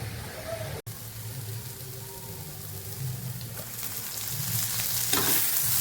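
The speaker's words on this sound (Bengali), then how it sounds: "আমি এবার তেলের ওপরে ছাতুগুলো দিয়ে দেব আমি সবগুলো দিয়েছি এবার ভেজে নেব" Sattu is fried in oil in a pan, giving a steady, close sizzle with scraping stir sounds throughout and one sharp click near the start.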